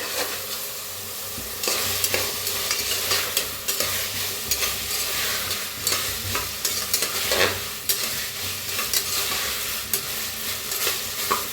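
Carrot and tomato frying with curry leaves, stirred in a pan for a festive home meal: steady close sizzling broken by repeated scraping strokes of a spoon, with no talk.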